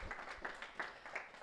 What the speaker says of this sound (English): So clap it up for Thomas.